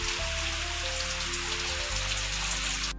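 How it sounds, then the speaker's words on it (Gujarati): Rain falls steadily, a loud, even hiss of drops on surfaces filling the whole short stretch before cutting off abruptly at the end. "વરસાદ થઈ ગયો ચાલુ।"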